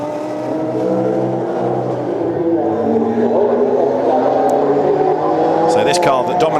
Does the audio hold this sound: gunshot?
no